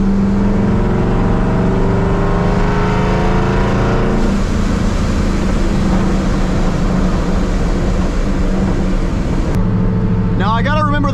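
Boosted Ford Mustang Mach 1 on slick rear drag wheels cruising with a steady, loud engine drone, and a voice talks over it the whole way.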